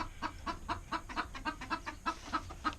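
Chickens in a coop cluck in quick, close bursts, a busy run of short calls repeating about every few tenths of a second, with no talk.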